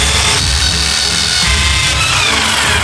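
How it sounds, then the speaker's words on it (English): A power drill bores into a block of ice, a loud steady grinding and whirring with scraping texture, close and continuous. "What are we gonna do? Drill into it? Not a bad idea."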